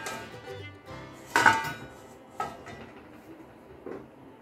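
A lid set onto a pan of chana dal pitha on the stove, giving a sharp metallic clank followed by a couple of lighter knocks and rattles, close and clear with quiet gaps between, no talking.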